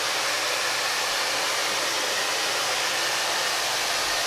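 A hair dryer set to hot and high blows steadily at close range, a loud, even hiss of rushing air throughout with no speech.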